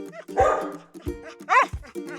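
A dog gives a quick series of close, sharp barks and yips, roughly four bursts in about two seconds, loud and alone with no talk.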